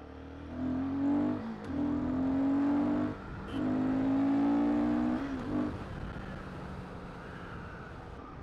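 A Royal Enfield Guerrilla 450 motorcycle engine revs up repeatedly in strong surges, its pitch climbing with each gear, then settles into a steady hum, fairly close by.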